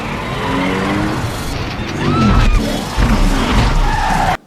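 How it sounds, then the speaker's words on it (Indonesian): A stolen Mercedes-Benz sports car races in a scene from the 2008 film Jumper, its engine roaring loud and close with tires squealing and skidding as it accelerates and turns. "Griffin mencoleng sebuah mobil sport dan mengajak David adu adrenalin"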